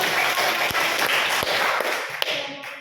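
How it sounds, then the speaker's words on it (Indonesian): Students in a classroom clap together, a dense close burst of applause with a few sharp louder smacks standing out, fading slightly toward the end. "Tepuk tangan."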